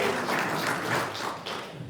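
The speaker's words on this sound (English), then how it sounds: "Consider that round of applause as you went." Applause from an audience at an all-residents community meeting, a steady wash of many hands clapping at moderate distance, sustained evenly for a couple of seconds.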